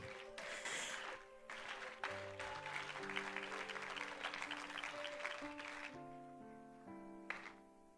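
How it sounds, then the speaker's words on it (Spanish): Church congregation clapping during a Wednesday worship celebration, a dense steady patter lasting several seconds alongside sustained organ or keyboard chords. "Dale un aplauso al Señor."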